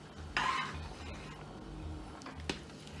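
Quiet stirring of Jamaican stew peas in a pot, with a scrape of a spoon against the pot near the start and another brief knock later, over a low steady kitchen hum.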